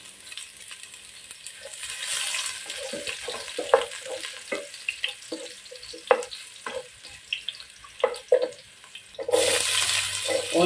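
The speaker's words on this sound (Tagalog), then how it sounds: "Garlic ang una natin igisa." Garlic sautéing in cooking oil for chicken adobo, a soft steady sizzle broken by scraping stirs and clinks of a utensil against the pan, with a louder burst of frying near the end.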